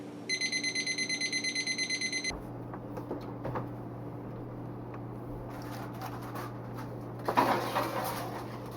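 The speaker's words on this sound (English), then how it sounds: "I'm going to set that timer right now." A kitchen oven timer emits a rapid run of high, even electronic beeps for about two seconds, followed by quiet background kitchen noise and a few faint clatters.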